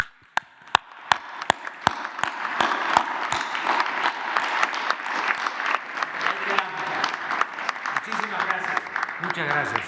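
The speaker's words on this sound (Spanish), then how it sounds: "Lo que le vamos a dedicar a los médicos es un aplauso" Applause for doctors at a World Health Day press conference starts with a few loud, evenly spaced single claps, then a crowd joins in with dense, sustained clapping that grows into a full round.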